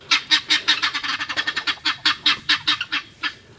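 Guinea fowl in a chicken coop give a rapid, rhythmic run of harsh, honking calls, roughly five per second, loud and close, with no talking.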